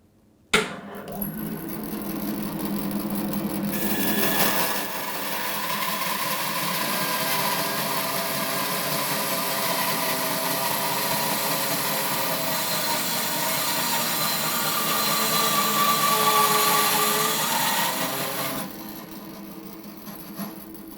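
A Record Power BS350S 14-inch bandsaw with a 1.5 horsepower motor cross cuts an 8-inch piece of oak. After a brief clunk, a steady loud cutting drone holds for about fifteen seconds and then stops, with no voices.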